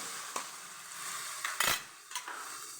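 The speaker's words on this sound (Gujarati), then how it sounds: "ટમેટો કેચપ લીધો તો એ નાખી દેશું મિક્સ કરી લઈશું" Tomato ketchup being stirred into a quick snack in a pan, with a spoon scraping and clinking against the pan over a soft sizzle, a few distinct knocks and scrapes over a few seconds, fairly quiet.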